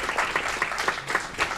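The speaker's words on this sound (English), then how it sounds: "Another round of applause for the legend, Dick Miller." Short burst of clapping at a city committee meeting in Aurora, a modest group applauding with uneven, pulsing claps.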